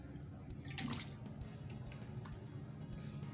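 Water sloshes and drips faintly and close by as cut potatoes for French fries are rinsed, with soft splashes and trickles and no voices.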